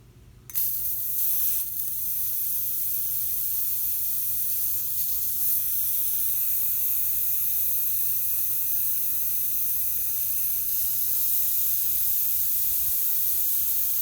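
Steady, continuous hissing of propane escaping under pressure while a 1 lb refillable bottle is refilled, loud and close, starting abruptly after a brief quiet moment and holding evenly throughout.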